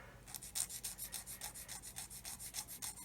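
A 0.75mm plastic rod end being sanded square for a 1/24 scale Airfix Hellcat model, giving a quiet, steady series of short rasping strokes in even rhythm, close up with no talk.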